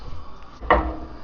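A lid set down over a pot of simmering tomatoes for a South Indian chicken biryani gives a single short clunk, near and moderately loud, in an otherwise quiet kitchen.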